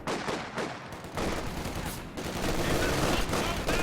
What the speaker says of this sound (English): The sniper's taking shots at range.